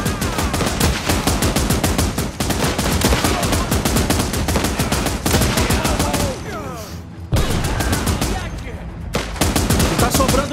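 Heavy, sustained gunfire in the video game Last Train Home, with sniper rifle shots among rattling volleys that pause twice before starting up again, loud and close throughout.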